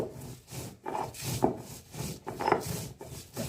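Black cumin, garlic, dried chillies and salt being ground on a stone shil slab, a steady back-and-forth scraping and rubbing of stone on stone in repeated strokes, close and moderately loud with no talk.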